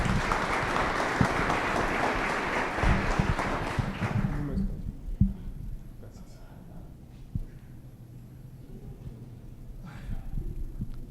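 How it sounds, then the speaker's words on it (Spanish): An audience at a Bogotá developer conference applauds a speaker, a burst of clapping for about four seconds that cuts off abruptly, followed by a quiet room with faint rustling and a few breaths. "Un aplauso a Javier."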